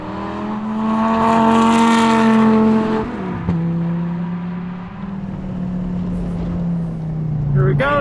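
A 520 whp Subaru BRZ hillclimb car screams at full power on a racetrack, its engine note loud and close, climbing steadily before a quick shift and pulling hard again.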